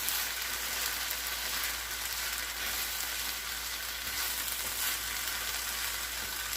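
Steady, loud sizzling of noodles and vegetables frying in a pan for Spanish-style chicken and noodle fried rice, a constant crackling hiss close up with no talking.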